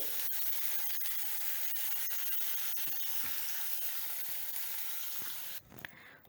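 Curry leaves and asafoetida frying in hot ghee for a pepper pongal tempering, a steady bright sizzle that holds for several seconds before dropping away abruptly near the end.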